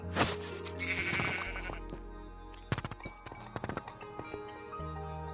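A goat in Minecraft bleats several times, with the calls standing out over game sounds and a run of quick clopping steps.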